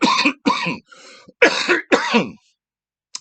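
A smoker coughs and clears the throat in several harsh, close bursts after smoking a joint, with a rougher wheezy stretch in the middle and a brief faint click at the end.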